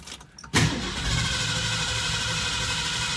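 A 1964.5 Ford Mustang convertible engine fitted with a Summit Racing carburetor cranks after a brief quiet moment, then churns steadily and loudly close by without catching.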